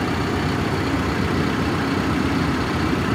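A 2011 CAT TH 336 telescopic loader, 127 hp, runs at a steady idle close by, with a continuous low diesel rumble and no voices.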